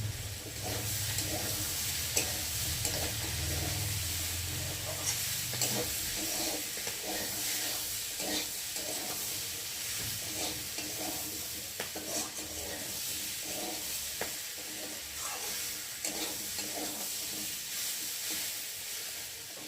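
Mixed vegetables sauté in a pan with steady soft sizzling and a scraping spatula stirring at intervals, fairly quiet and continuous, no talk.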